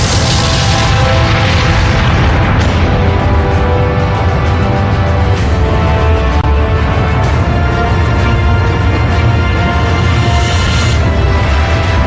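Atomic bomb test explosion, a massive continuous roaring rumble with dense low-end boom and crackling, very loud and sustained for the whole stretch with no voices.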